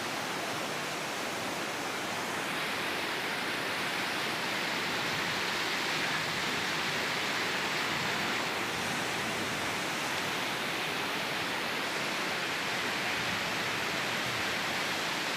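Heavy rain with a strong, swollen river current beside a bridge at Kali Srengseng in Tambun, a dense, constant roaring wash of noise, loud and unbroken throughout with no voices.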